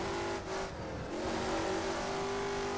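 A Mercedes race car engine in the rFactor racing sim holds a loud, steady, high-pitched drone, with a brief dip in pitch partway through and no talk.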